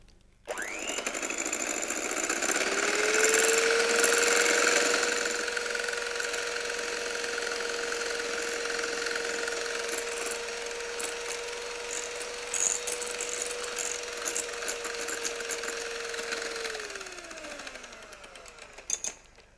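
An electric hand mixer whirs steadily for most of the clip as it beats sugar, eggs and oil into cake batter, spinning up at the start and winding down near the end, close and alone.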